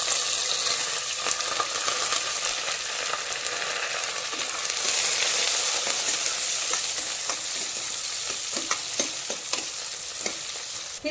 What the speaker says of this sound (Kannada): ಇದಕ್ಕೆ ಚಕ್ಕೆ, ಲವಂಗ ಇದೊಂದು ಸ್ವಲ್ಪ ಫ್ರೈ ಮಾಡ್ಕೋಬೇಕು